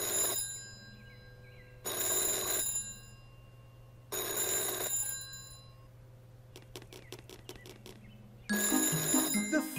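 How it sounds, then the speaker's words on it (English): A cartoon telephone rings in loud repeated bursts of bright electronic bell tone separated by pauses, with a quick series of clicks before the final ring. "The phone is ringing."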